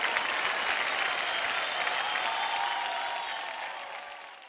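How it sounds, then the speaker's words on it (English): Sustained, dense applause from a large audience honoring an award nominee, loud and steady before easing slightly toward the end. "Ladies and gentlemen, a round of applause."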